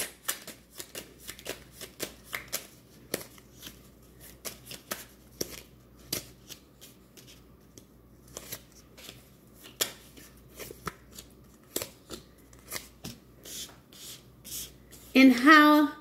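Tarot cards are shuffled by hand in a rapid run of crisp riffles and slaps, close and clear, with irregular bursts and short pauses over about sixteen seconds; a brief voice-like sound comes at the very end.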